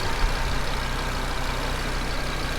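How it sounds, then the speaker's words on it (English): A 2019 Audi RS3 with APR Stage 2 tuning idles smoothly and evenly, a steady low rumble close by with no talking. "The engine sounds super healthy."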